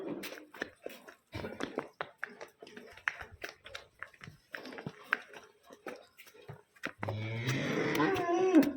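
Jersey and HF heifers on a farm, with scattered thumps and movement sounds giving way to a loud, close moo near the end while people talk nearby.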